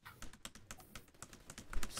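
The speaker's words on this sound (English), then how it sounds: "Slamming my keyboard." A computer keyboard is slammed and hammered during a shooter game session, giving a rapid, irregular burst of sharp plastic key clacks, fairly close and heavy throughout.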